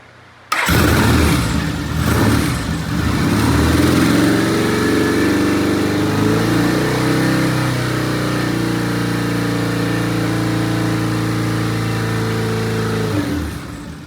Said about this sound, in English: we're going to start it, and Kevin's going to strobe the ignition down there